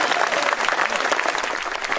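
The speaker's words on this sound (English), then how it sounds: "Give her another round of applause." An audience claps steadily and densely at a political election-night event, and the applause stays loud and full for the whole clip.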